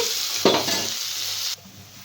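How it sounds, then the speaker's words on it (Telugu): Gobi fried rice is stirred and tossed in a frying pan, giving a steady scraping, sizzling wash that swells briefly and then drops to a quieter sizzle near the end. "ఇంకా మరి మరీ ఒకసారి కలిపేస్తున్నాము ఇంకా కొంచెం ఫ్రై కావాలి"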